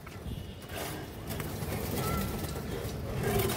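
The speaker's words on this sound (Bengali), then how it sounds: "এই যে দেখেন আপনারা খুব সুন্দর একটা পেয়ার পুরান কবুতর" Pigeons cooing softly in a loft, a pair of old flying pigeons nearby, with low murmuring calls under someone talking and faint background rustling.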